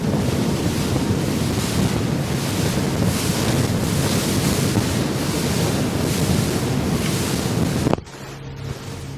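Waves slap and wind roars over a Tahoe 234 boat with a Mercruiser 350 MAG MPI engine as it runs across open water, a loud, rushing wash with rhythmic thumps that drops away abruptly near the end.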